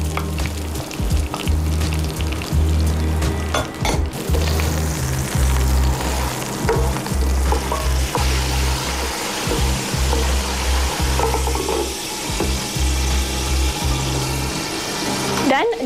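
Steady loud sizzling of minced meat frying in a hot pan with dark soy sauce, continuous crackle throughout with occasional stirring scrapes and a voice speaking underneath.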